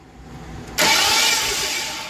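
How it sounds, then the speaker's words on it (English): A 1994 convertible's engine, spark plugs removed, cranks over from a quiet start, then a sudden loud, broad, steady whirring rush that holds without firing, fading slightly toward the end. "we're gonna crank the engine over with no spark plugs"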